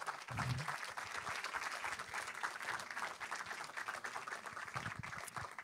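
A film festival audience in Marseille applauds to welcome a composer, a dense, steady patter of many hands clapping in a cinema hall. It keeps up evenly for several seconds, with no voices over it.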